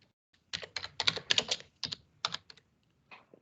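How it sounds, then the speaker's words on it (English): Keys on a computer keyboard clatter in quick irregular bursts during a workshop session, close and fairly crisp, with brief pauses between runs of keystrokes and no talk. "So you see what I was typing"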